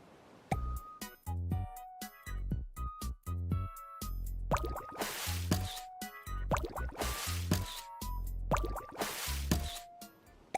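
Cartoonish water effects from a video game as a purple seal pops up, with repeated plopping drips and bubbly splashes mixed with bright musical tones, clear and close.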